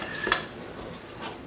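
A small baked pull-apart bread is lifted from its tin and set on a plate, giving one bright clink of metal or crockery followed by faint soft knocks, brief and close.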